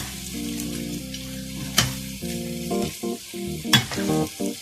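Frog meat sizzles steadily as it is stir-fried in a hot pan, with occasional scraping stirs and sharp crackles as it is tossed, up close and without talking.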